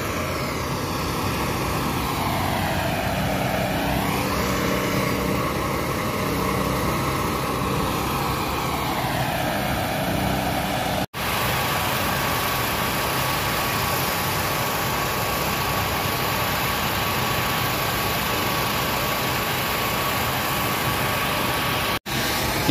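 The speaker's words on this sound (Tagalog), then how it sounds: "So gumagamit din pala sila ng mga generator, no." A generator engine runs at a busy construction site, a steady loud mechanical drone that holds through the whole stretch with only a couple of brief dropouts.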